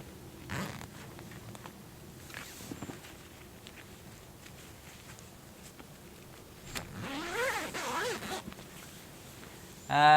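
Pomoly Hussar ultralight hot tent door being zipped shut in cold winter camping, a quiet rasping zip run near the end amid soft rustling of fabric.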